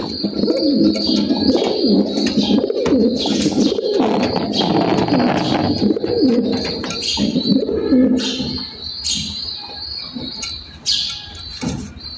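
Pigeons kept on a house rooftop in winter coo repeatedly and fairly loudly, their rolling calls overlapping with scattered chirps and bird twitters and no talking.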